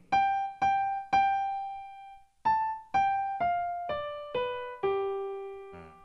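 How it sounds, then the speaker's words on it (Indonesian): A main piano melody of about ten single notes, some held and some quick, each ringing out cleanly with no talk over it. "Melodi utama bunyinya seperti ini."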